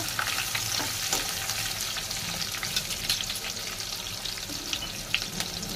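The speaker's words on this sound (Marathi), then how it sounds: "तो घालून छान असं गुलाबी रंग आपल्याला कांदा परतून घ्यायचा आहे बघा" Thinly sliced onion sautés in a pan, giving a dense, continuous sizzle with occasional light stirring clicks, close and fairly even throughout with no speech.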